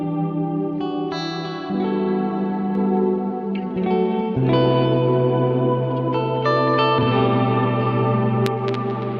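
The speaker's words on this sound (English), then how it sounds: "Let's listen only to the convolution itself." Free VST convolution reverb on held synth chords, a wide washy tail blurring each sustained chord change, steady and loud without any voices.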